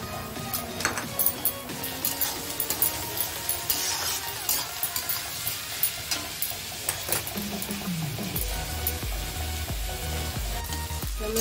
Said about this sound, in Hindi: कांदा फ्राई होने दो